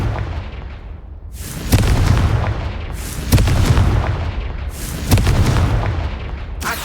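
Confringo fire spell blasts in the video game Hogwarts Legacy: a series of loud, booming explosions about every one to two seconds, each with a sharp crack and a rumbling tail, without speech.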